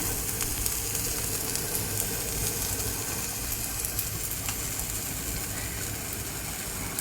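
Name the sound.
tapala chekkalu rice crisps cooking on pan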